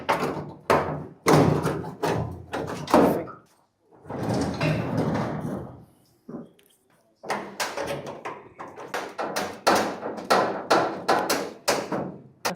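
A curved chisel is hammered against the body of a Mitsubishi FTO under restoration: loud, close metallic blows come in quick bursts, separated by short pauses and a longer scraping stretch.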